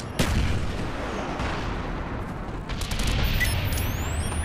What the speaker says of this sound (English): Bomb strike inbound.